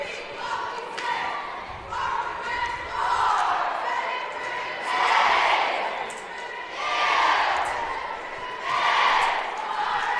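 Casey Middle School cheerleaders perform their opening cheer in a school gym at a boys basketball tournament, with rhythmic chanted voices rising and falling in waves over crowd noise, while a commentator talks over it.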